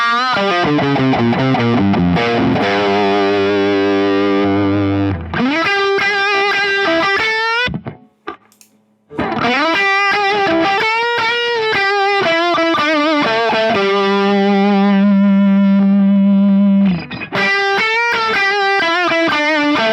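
Distorted electric guitar through a Bludojai Lead amp, loud and sustained, with the fat switch toggled on and off between phrases; a brief near-silent gap interrupts the playing midway, then thick saturated notes and held chords resume.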